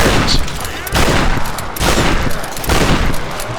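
Shotgun blasts in a video game, about four loud booming shots spaced roughly a second apart, each with a sharp attack and a short decaying tail.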